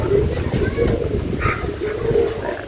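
Pigeons cooing in a new loft, soft repeated coos sounding near and fairly steady beneath someone talking.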